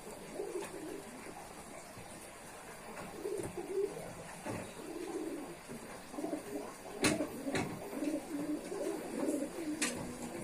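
Pigeons coo repeatedly in a loft housing long-flying high-altitude pigeons, soft throaty calls rising and falling in overlapping bursts over a steady hiss, with occasional sharp knocks and rustles nearby.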